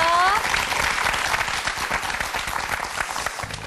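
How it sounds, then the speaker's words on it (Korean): A television studio audience applauds a couple on the talk show Love in Asia with a steady, dense wash of many hands clapping. A voice is heard briefly at the start, then the clapping holds at an even level throughout. "제가 응원의 박수 보내드릴게요."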